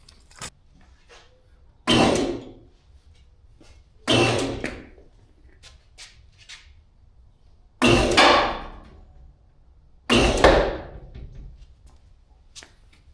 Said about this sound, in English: I think all that popping is the bolts from the cab mounts coming down.